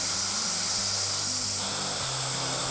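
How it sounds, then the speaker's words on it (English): Steam hisses steadily from the safety valves of a steam locomotive under restoration, Brookes No.1, a continuous broad hiss with a low mechanical hum beneath it, no voices. "As steam began to wisp from the safety valves, they were carefully adjusted to release at exactly the right pressure."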